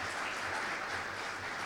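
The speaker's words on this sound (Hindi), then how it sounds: "जोरदार तालियां" Loud, steady applause from a crowd at a Hindi-language Christian worship gathering, a dense and unbroken roar of clapping with no voices on top.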